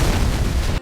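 A loud, sustained explosion rumbles on the Lambkeeper's bridge in the game Closers, a dense full-band blast that roars for under a second and then cuts off abruptly.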